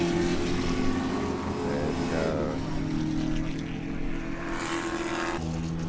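SPO race car, number 10, passing on the Daytona road course at a SARRC event, a steady loud engine drone with a strong low harmonic hum, pitch shifting slightly as it goes by, continuous throughout.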